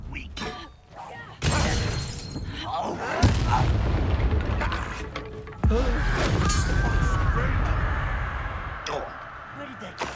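Confringo blast spells in the video game Hogwarts Legacy, with sudden loud booming explosions and shattering crashes that sustain as rumbling noise, several separate blasts over about ten seconds, mixed with in-game voices.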